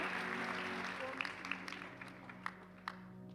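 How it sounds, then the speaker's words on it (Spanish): A church congregation at a Sunday worship service gives soft, sustained applause that fades gradually, with a few sharper individual claps near the end and a low steady hum underneath. "Aplauda la grandeza del Señor."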